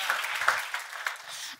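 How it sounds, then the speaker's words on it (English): Applause from a church conference audience, a dense patter of clapping with a few sharper claps standing out, steady and moderately loud throughout. "Clap for Jesus, not for me."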